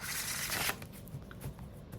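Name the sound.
shuffling oversized tarot and oracle cards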